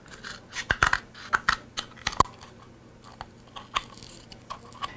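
Scissors snip mint sticks in half, a series of sharp crunching cuts, loudest early then spaced out, close and alone with no talk.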